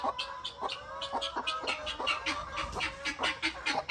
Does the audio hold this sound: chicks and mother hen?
yes